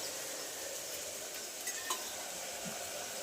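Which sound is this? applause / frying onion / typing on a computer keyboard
frying onion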